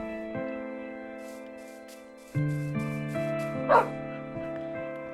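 In a Minecraft game, a dog gives a short, sharp bark over sustained tonal game music, close and fairly loud, with no one talking.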